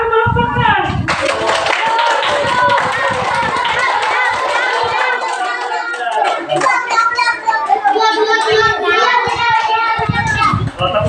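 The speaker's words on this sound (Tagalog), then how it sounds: "Tapos na kayo, palakpak na." Children in a classroom clap together under a teacher's voice and lively chatter, with several bursts of hand claps and kids talking and playing throughout.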